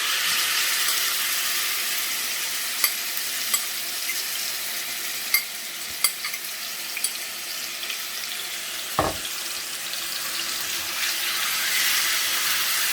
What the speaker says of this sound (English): the oil is now hot, so I'm going to fry off my liver